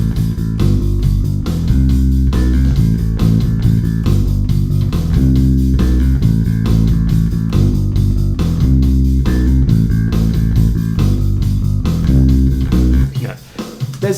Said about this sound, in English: it features this super repetitive bass line that kind of chugs